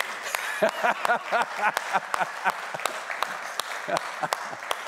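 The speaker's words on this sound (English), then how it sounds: "give Jim a round of applause" A small audience applauds a volunteer called up to join the speaker, scattered claps mixed with voices and laughter, moderately loud and uneven in rhythm.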